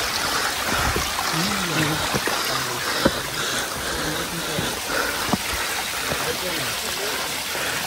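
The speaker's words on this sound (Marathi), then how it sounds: "पाण्याचा प्रवाह" Water flows steadily in a stream along the Ganesh Ghat jungle trail on the Bhimashankar trek, a continuous close rushing trickle with small splashes throughout.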